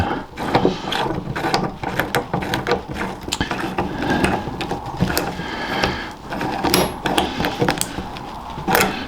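A bolt is worked loose from the front points of a G14 crampon, giving a close, irregular run of metallic clicks, ratcheting ticks and scraping twists over about nine seconds without speech.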